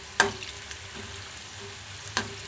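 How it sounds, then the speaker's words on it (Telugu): Leftover-rice punugulu fritters fry quietly in a pan, with a soft steady sizzle broken by a couple of sharp scraping clacks from a spoon or ladle. "ఒక 5 మినిట్స్ వేయించుకుంటే సరిపోతుందండి, ఇలా అంటూ వేయించుకోవాలి"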